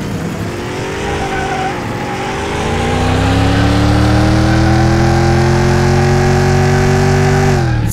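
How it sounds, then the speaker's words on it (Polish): Race car from Car Mechanic Simulator 2021 roars at high revs, then braking brings a long falling engine tone with tire squeal, loud and steady throughout with no talk. "Hamulce działają dobrze."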